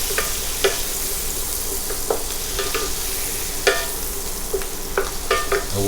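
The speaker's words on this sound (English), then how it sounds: "I'm going to go ahead and drop my shrimp in. I'll go ahead and stir it around as the shrimp get coated." Shrimp sizzle loudly in a hot pan for Rasta Pasta, with a steady frying hiss broken by repeated scraping stirs of a utensil against the pan.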